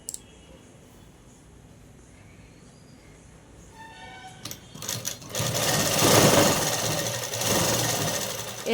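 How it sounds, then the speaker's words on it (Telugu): Sewing machine stitching onto elastic. A few soft clicks and handling noises come first, then the motor whirs up into a loud, continuous rapid stitching run that lasts to the end, close up. "ఇప్పుడు ఇక్కడ నుంచి మనము లూజ్ కుట్టు పెట్టేసుకొని ఎలాస్టిక్ మీద కుట్టు వేసేసుకున్నాం"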